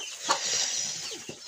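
Young chickens on a small farm cluck softly in short bursts against a bright, steady background hiss, with no one speaking.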